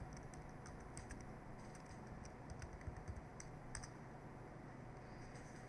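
A name being typed on a computer keyboard, with quick, quiet key clicks in short bursts over a faint steady background hum.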